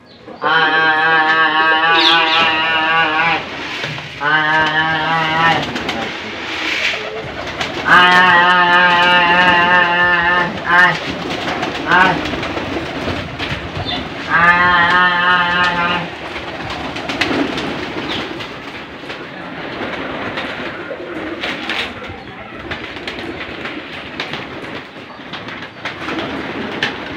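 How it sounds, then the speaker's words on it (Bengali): A flock of about thirty to thirty-five pairs of local domestic pigeons coos in a loft, with soft cooing running under loud, sustained horn-like tonal calls that come in several bursts. "তো চলেন আপনাদের কবুতর দিদিকে আসি।"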